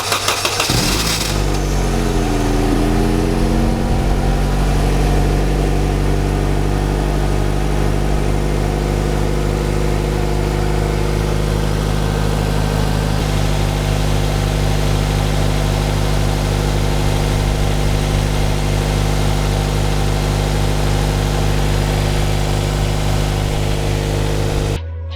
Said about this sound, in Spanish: Os voy a dejar primero un clip del arranque en frío antes de cambiar el aceite y poner el aditivo antifricción.